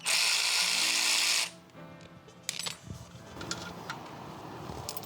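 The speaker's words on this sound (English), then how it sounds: "one of the last things we need to do to get the catalytic converter off is get this bolt out of the way" A bolt is loosened from the catalytic converter bracket of a 2025 Triumph Bobber with a power tool. It whirs loudly and steadily for about a second and a half, then stops, followed by a few close metallic clinks and ticks.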